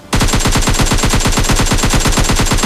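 Rapid, sustained automatic gunfire in a fast, even rhythm, loud and close, continuing without pause after a sudden start.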